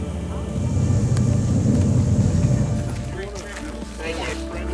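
A small plane flies just after takeoff from Fairbanks under hazy skies, a steady low droning roar of the engine heard inside the cabin, with a person talking over it.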